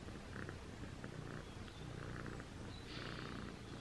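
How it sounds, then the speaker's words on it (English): A cat purring close up, a continuous rumbling purr with a rhythmic rise and fall of breaths, loud and alone. "We've got a purrer,"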